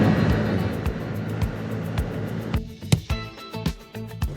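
A Vespa Sprint 125 i-get ABS scooter pulls away for a ride through the city. A close motor hum runs under rapid clicking and ticking pulses that grow more uneven as it sets off.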